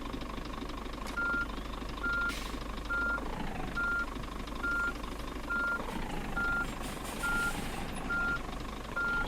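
A truck backing a trailer sounds a steady series of evenly spaced reversing beeps over a constant engine rumble, close and clear.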